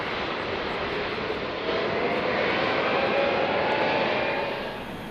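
B-52 bomber engines running before takeoff, a loud continuous broadband roar that swells slightly midway and holds steady, heard alone without voices.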